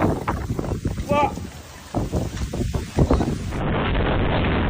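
Violent storm wind in Shanghai roars and buffets the microphone in loud gusting bursts, with shouting voices mixed in and a steadier rushing blast near the end.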